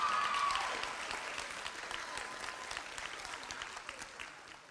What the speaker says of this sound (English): Let's give a large round of applause for Empress Weber and Miss Duncan